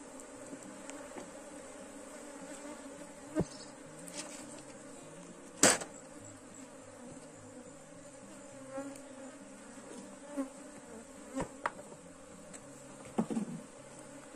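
Bee swarm buzzing around the hive, a soft continuous droning hum with individual bees passing close now and then, punctuated by a few faint knocks and clicks.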